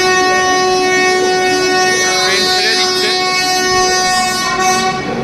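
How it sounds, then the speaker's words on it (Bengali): Train departing Coimbatore Junction, with a loud, steady horn tone held throughout, close by, over rumbling wheels and station noise. "ট্রেন ছেড়ে দিচ্ছে এখন"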